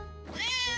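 A cartoon kitten lets out one bright, drawn-out meow that rises and swells, close and loud, with a soft tonal backdrop underneath.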